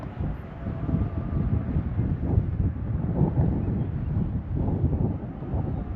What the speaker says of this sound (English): Getting a cool breeze off the wind there